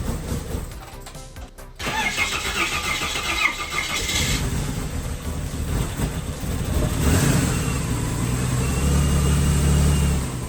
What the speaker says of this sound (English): we finally got to hear this car start up for the first time